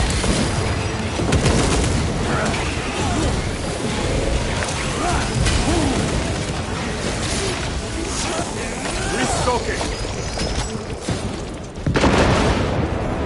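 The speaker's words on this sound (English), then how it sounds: "Frag grenade out." A frag grenade detonating in Warhammer 40,000: Space Marine 2 during a Terminator hold, booming within a constant roar of heavy gunfire and battle noise, with voices calling out over the fighting.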